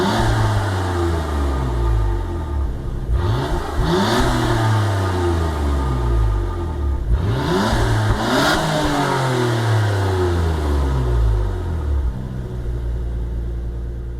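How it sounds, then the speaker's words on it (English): Nissan Skyline GTS-R R31 engine in Gran Turismo 7, starting at the Nürburgring Nordschleife and revving repeatedly, with loud rising and falling sweeps that recur in waves throughout, close and without talk. "So now let's get this car started and see how fast it can lap the Nürburgring Nordschleife"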